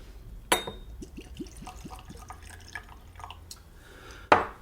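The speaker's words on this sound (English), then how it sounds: "Let's finish getting these poured." Cane juice rum from Uruapan, Michoacán being poured into tasting glasses, a rising gurgling pour with drips, a glass clink at the start and a louder knock at the end, no talking.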